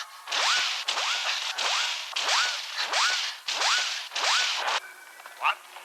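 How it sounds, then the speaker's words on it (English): Atari-like synthesized whip effect from a long strand of hair swung at opponents in the 1981 samurai film Samurai Reincarnation: about seven loud, evenly spaced swooping whip strokes in a row, followed by faint tones. "he employs a long strand of hair that he swings and whips at his opponents, making some sort of Atari sound effect"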